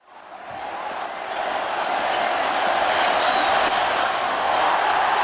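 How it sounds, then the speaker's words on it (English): A cricket stadium crowd in Bengaluru, at an India versus Australia one-day match, roars for a boundary, a dense wash of cheering that swells quickly and holds loud and steady. "Gets the crowd excited."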